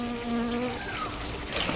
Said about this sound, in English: there's a bee over here